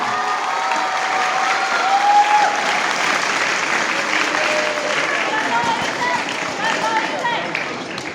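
Sustained, dense clapping from an audience honoring prize winners at a youth scripture recitation competition, steady in level with faint voices mixed beneath.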